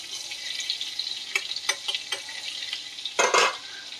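Spices fry in butter in a pan for butter paneer, a constant close hiss and sizzle broken by several sharp stirring clicks and a louder scraping burst near the end.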